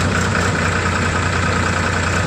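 A tractor engine runs at a steady, loud idle, a continuous low rumble with no breaks or voices, close by on a farm where buffalo are being moved along.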